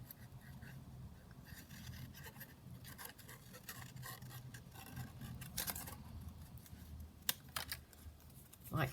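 Scissors cutting paper and leaf shapes for a junk journal craft, faint close snips and rustling paper handling in a quiet room, with a few sharper clicks toward the end.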